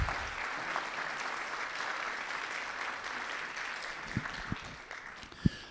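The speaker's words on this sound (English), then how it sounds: "Round of applause, yes." A round of applause for the candidates at an Ipswich Democratic primary event fills the room as steady, soft crowd clapping that thins toward the end, with a few louder close claps and bumps in the final seconds.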